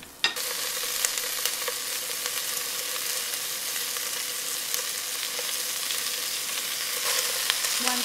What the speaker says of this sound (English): Now the shallots is brown. I'll go ahead and add the fish.